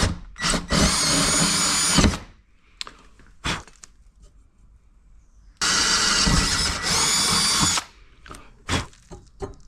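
A power drill with a 9 mm bit boring holes in a GT86, two loud sustained runs of about two seconds each, separated by quieter clicks and handling noise.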